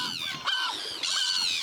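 Gulls call at a tide pool in Wellington, New Zealand, before a storm: two drawn-out, harmonic squawks that slide downward, fairly close and loud, with only faint background between them.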